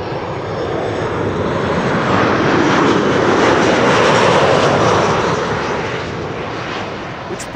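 A Transavia airliner in special livery arrives from Faro, its broad engine roar swelling steadily to a loud peak mid-pass and then easing off as it goes by, with no other sound over it.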